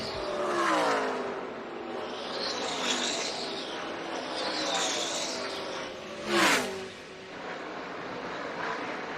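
NASCAR Camping World Truck Series trucks at practice at Charlotte Motor Speedway, engines rising and falling as they pass at a distance, with one sharper close pass, set behind a faint broadcast voice.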